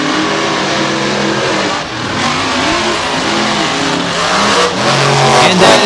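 Drag racing cars accelerating side by side at a Selinsgrove drag strip, Saigon Shaker among them, with loud, sustained engine roar and rising revs that surge near the end.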